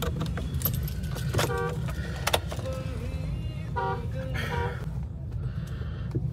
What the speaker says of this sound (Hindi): आप देखिए गाड़ी को चाबी लगाते हैं